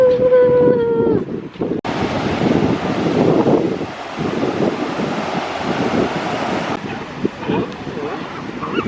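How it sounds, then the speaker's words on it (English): Wind buffets the microphone over ocean surf along the La Jolla coast in San Diego, a steady roar of breaking waves and gusts, with a voice briefly at the start. "I see the ocean."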